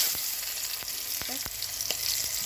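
Mustard oil sizzles steadily in a wok at close range, broken by a few sharp crackles and spits from chilies and tomatoes frying for a fish bharta.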